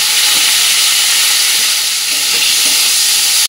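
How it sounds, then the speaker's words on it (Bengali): Bitter gourd frying in mustard oil in a wok gives off a steady, loud, close sizzle and hiss that holds evenly for a few seconds and then cuts off abruptly. "আমি কড়াইয়ের মধ্যে দিয়ে দেবো এবার সর্ষের তেল, মানে উচ্ছেটাকে ভাজার জন্য"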